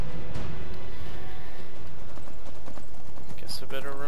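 Horse hooves clip-clop in the Skyrim video game, a brief run of steps heard amid the game's background sound, with someone talking over it.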